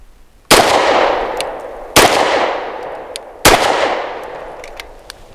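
Three sharp, loud pistol shots from a BUL Armory EDC, spaced about a second and a half apart, each with a long echoing decay.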